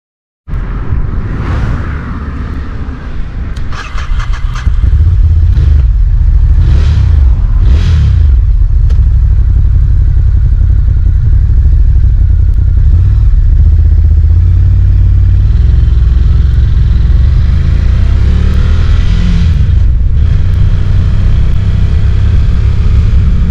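Ducati Scrambler Tribute Pro motorcycle engine starting and revving a few times, then settling into a loud, steady low idle rumble close by.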